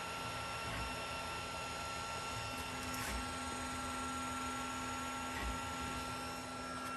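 A Creality Ender 5 Plus 3D printer runs its first print with a steady stepper-motor whine and fan hum, punctuated by a few soft mechanical clicks, close and fairly quiet with no talking.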